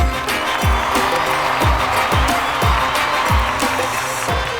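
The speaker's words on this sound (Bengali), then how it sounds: "প্রোডাকশনের আমাদের যাদের আছে তাদের জন্য একটা বড় হাততালি" Studio audience applause for a TV show's production team, dense continuous clapping with rhythmic low thumps beneath, loud and sustained throughout.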